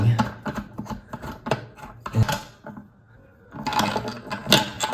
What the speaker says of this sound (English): there's a little nut on the bottom here that I'm unscrewing